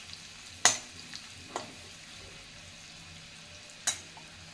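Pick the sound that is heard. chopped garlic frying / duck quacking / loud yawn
chopped garlic frying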